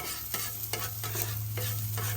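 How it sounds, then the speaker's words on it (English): Garlic fries in a pan for homemade lumpia, a steady close sizzle broken by several scraping stirs at roughly even intervals, with no talk. "Don't burn it. Yeah, I don't like to burn. Don't burn the garlic."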